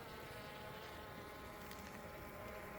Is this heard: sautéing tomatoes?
no